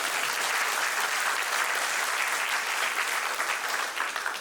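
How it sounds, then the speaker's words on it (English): At a Fernandina Beach town hall, an audience gives a sustained round of applause, loud and even throughout before tapering slightly at the end. "Let's give a round of applause for the work you do in our state parks."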